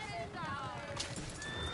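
Horses in Red Dead Redemption 2 whinnying and neighing in high, wavering cries alongside hoof clip-clops, fairly faint and mixed with a voice speaking over them.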